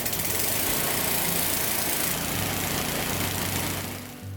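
A coffee cherry pulper machine processing harvested Liberica coffee cherries runs loudly and steadily up close, a dense mechanical drone with low rhythmic thumping that winds down near the end.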